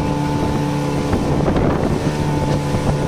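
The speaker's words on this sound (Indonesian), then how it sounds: "Angin timurnya turun sangat kencang" A strong east wind blows at sea in extreme weather aboard a boat, giving a loud, constant roar of wind buffeting the microphone over a running motor, with no talk.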